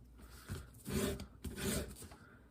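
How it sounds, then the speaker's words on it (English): Rasping, scratchy strokes of sanding the tip of a guitar pick made from recycled 3D printer spool plastic, about three rubs in an uneven rhythm, close up and fairly quiet. "make sure you count how many times you sand and try to give it the same amount of force"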